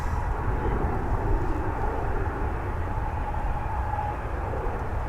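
An airliner roars at DFW Airport, its jet noise a loud, steady broadband rumble and hiss that fills the air without pause, close and alone.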